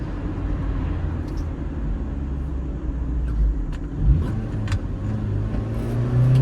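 A manual-transmission car's engine hums steadily from inside the cabin after a downshift into fourth at about 40 mph, rising gently in pitch as revs climb, with a few faint clicks and road noise underneath.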